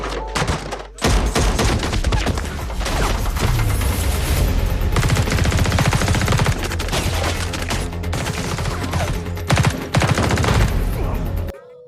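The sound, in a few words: gunfight in a movie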